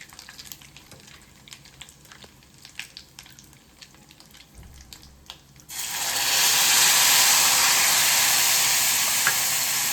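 Soaked tamarind squeezed and poured into a hot pan for pulihora: light clicks and taps at first, then a sudden loud steady sizzling hiss that holds to the end.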